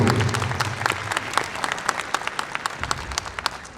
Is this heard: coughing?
no